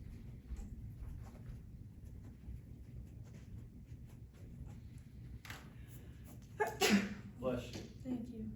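A single sneeze bursts out in a classroom during a math lecture, fairly close and brief against a quiet room hum, with a short rustle following.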